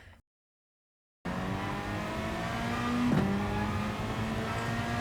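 A Peugeot RCZ race car in a racing video game drones steadily after a brief silence, its engine note holding a sustained tone with a quick pitch dip near the middle as it races on.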